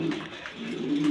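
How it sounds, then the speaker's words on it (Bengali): A male pigeon coos nearby in low, throaty, repeated phrases. The calls are steady and close, with no talking. "এই যে 8 পরের নর কবুতরটা।"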